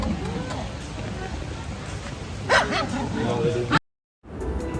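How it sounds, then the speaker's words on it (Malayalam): Small pet dogs bark and yip in their cage in short, sharp bursts. The barking sits amid people talking and general chatter, then cuts out briefly. "ഭയങ്കര കുരയായിരുന്നു."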